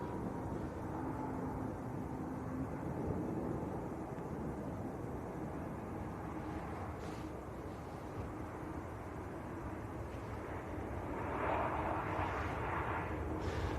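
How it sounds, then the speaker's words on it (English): Ryanair airliner on short final approach at Manchester Airport, a steady broad jet roar that holds level throughout the clip, swelling slightly near the end, moderately distant with no talking. "The good old Ryanair on short finals."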